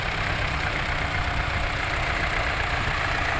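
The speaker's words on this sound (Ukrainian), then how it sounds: "Мотор тут цей рідний, його стоїть, низькооборотливий" An MTZ-50 tractor's original low-revving engine idles steadily at low revs, with a continuous rough rumble and hum throughout and no voices.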